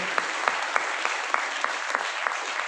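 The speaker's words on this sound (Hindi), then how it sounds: "ताली जोरदार बजाइए।" An audience at a business meeting claps steadily and loudly, with dense continuous applause and a few sharper individual claps standing out.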